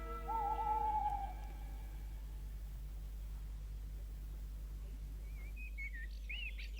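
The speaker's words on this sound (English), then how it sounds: "the birds were singing" Birds call in the morning outdoors, with a single longer whistling call near the start and a few faint chirps toward the end over a steady low hum.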